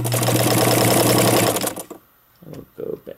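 Vintage Necchi BU sewing machine stitching steadily and loudly for about a second and a half, then stopping, followed by a few brief handling noises and soft voices.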